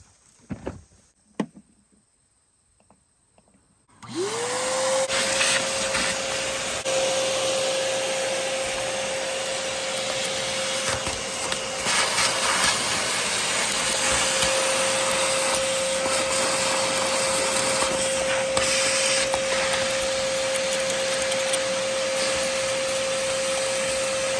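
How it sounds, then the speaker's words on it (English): A shop vac spins up after a few seconds of quiet and runs at a steady, loud whine, cleaning out a Model T engine, with no talking over it. "I gotta go get a shop vac."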